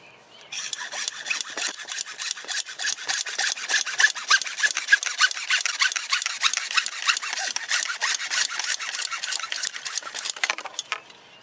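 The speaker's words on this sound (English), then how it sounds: "We're going to make a cut, so we're just going to make a short measurement. Good hacksaw." A hacksaw cuts through a sump pump discharge pipe during a crawl space install, with steady back-and-forth rasping strokes running continuously for about ten seconds, close and fairly loud with no talk.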